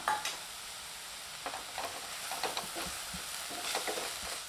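Quiet scraping and clinking of a spatula stirring cabbage stir-fry in a pan, with a faint sizzle underneath and occasional soft taps.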